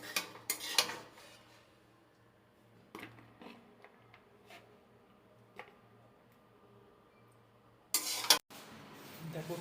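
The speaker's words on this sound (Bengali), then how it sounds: "এবার আমি চাউমিনটা তুলে নেব।" Homemade chow mein lifted out of a pan, with sparse metal utensil clinks and scrapes against the cookware, a few louder clatters near the start and end over a quiet low hum.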